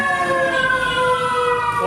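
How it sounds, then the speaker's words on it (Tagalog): A Chinputong Volunteer Fire Brigade fire truck siren wails loud and steady without a break, a sustained tone gliding slowly downward over the rumble of the truck during a street caravan in Camarines Sur. "O ito na ang saro sa kairibahan tang fire truck sa Chinputong Volunteer Fire Brigade."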